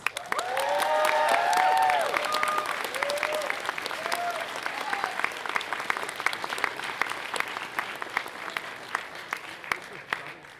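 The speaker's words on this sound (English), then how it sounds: "give yourselves a big round of applause" A convention crowd at a furry gathering's closing ceremony applauds, loud and sustained, with cheering whoops and shouted voices early on before the clapping thins into scattered, separate claps.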